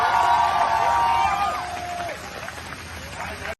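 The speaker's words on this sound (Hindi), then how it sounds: "एक बार जरा इंडियन एयरफोर्स के लिए जोर से ताली बजे।" A crowd claps, whoops and cheers for the Indian Air Force at an Operation Ganga event, loud and dense at first, with shouted voices on top, then easing to a lower, steady roar.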